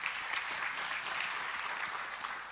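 Guests at a ceremony unveiling new studios in Pretoria give a steady round of applause, even and continuous at moderate volume from start to finish.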